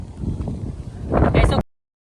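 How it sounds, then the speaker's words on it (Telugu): Strong wind buffets the top of a college water tank, a loud, rough, rumbling gusting that swells near the end before cutting off abruptly; a person speaks over it. "గాలి అయితే ఫుల్ వస్తుంది"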